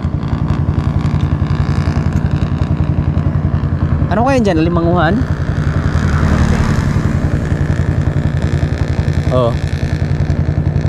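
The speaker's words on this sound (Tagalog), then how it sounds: "Lalaki ng mga makina nila" Large boat engines run loudly and steadily close by, a constant rumbling drone throughout, while people talk over them.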